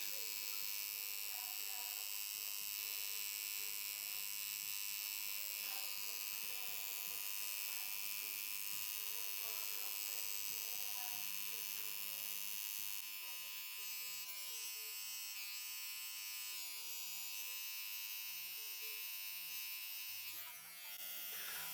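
A tattoo machine fitted with a very fine Synchrone Liner needle gives off a continuous close electric buzz, steady throughout with slight shifts in tone as it works.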